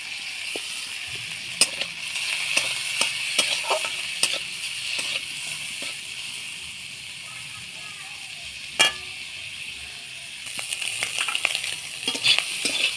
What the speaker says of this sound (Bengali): চিংড়ি মাছটা ভাজা হয়ে গেছে এবার আমি নামিয়ে নেব